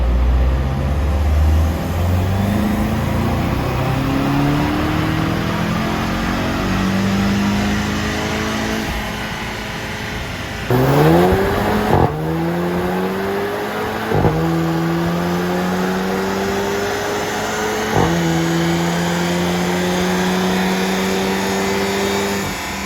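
A remapped VW Golf GTI Mk7 engine revs hard at full load, its harmonic tone climbing steadily through several loud pulls separated by brief gear-change breaks, running continuously near the microphone with no voices.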